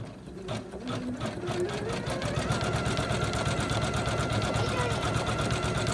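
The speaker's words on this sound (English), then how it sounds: "Finishing up that corner with the bean stitch." An embroidery machine sews a bean stitch on a quilt, a fast close rhythmic needle chatter that begins softly and then runs steady and dense for several seconds, with a voice talking faintly at the start.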